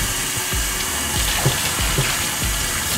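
Water running steadily from a tap during a hair wash at a salon basin, continuous splashing with occasional louder spurts, close and alone.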